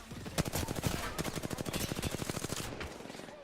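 Rapid automatic gunfire in a video game, a fast rhythmic burst of sharp shots close by lasting a few seconds before tapering off, with faint game sounds underneath.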